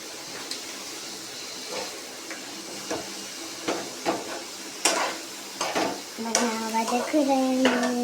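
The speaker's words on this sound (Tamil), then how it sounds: "வதக்குறேன்." Tomatoes sautéing in a pan for chutney with rock salt, giving a low steady sizzle broken by scattered stirring scrapes and clinks of a spoon against the pan, with no talk.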